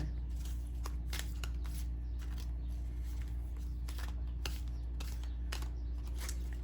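A deck of tarot cards being shuffled up close, with a string of crisp riffling snaps and flicks at irregular intervals over a low constant hum, no talking.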